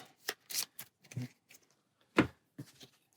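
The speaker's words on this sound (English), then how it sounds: "Take the rest of his cards and give them a shuffle." A deck of Altar Quest board game cards is shuffled in a few short riffling bursts, close and quiet, with brief pauses between them and no talking.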